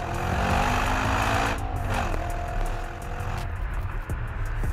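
An Audi RS4 engine roars loudly and steadily, then its pitch sweeps and shifts as it over-revs, with broadband exhaust noise throughout and no talking.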